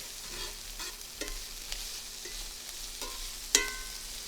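Zucchini and garlic sauté in a pan with a soft, steady sizzle, broken by occasional stirring scrapes and a sharper clink near the end, no voices.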